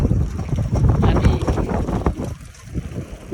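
Cold wind buffets the microphone of someone cycling along a quiet village road, a loud, continuous low rumble that swells and dips slightly throughout.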